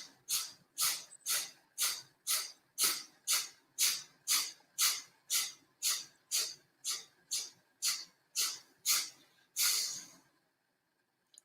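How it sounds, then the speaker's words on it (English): Twenty-odd quick, sharp nasal sniffs come in an even rapid rhythm during a belly-breathing exercise, each a short hissy burst, close and alone with no talking. "Belly goes out, and then 20 little sniffs."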